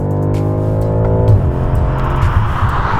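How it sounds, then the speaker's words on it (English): BMW F90 M5 with its V8 and optional sports exhaust, revving steadily, then the pitch drops as it shifts or lifts off. Loud and close, with no one talking. "Now the car sounds good."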